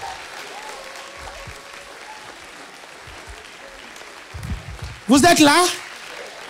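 Church congregation bursting into loud applause and cheers praising the Lord near the end, following a preacher's French speech over a quiet hall.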